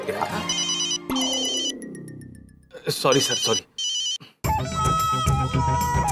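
A phone rings with a bright, repeating electronic tone that plays in several bursts broken by gaps and sweeping effects, while people talk in between.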